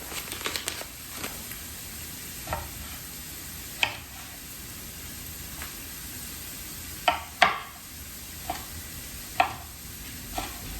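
Onion cooks in a pan with a quiet, steady sizzle, broken by several sharp knocks and clatters of utensils at irregular intervals, close by with a faint background hum.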